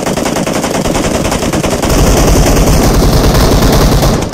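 Dense, continuous automatic gunfire from a mobile shooter game played on an iPad Pro, loud and unbroken throughout, with rapid overlapping shots filling the whole span and no talking.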